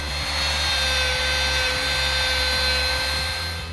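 Power router cutting hinge recesses into wood, giving a loud, continuous high whine with a steady motor hum underneath, constant throughout with no speech.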